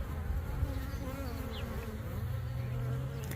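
Honeybees from an untreated colony in a single deep hive buzzing at the entrance, a dense steady drone of many wings close by, with no talking.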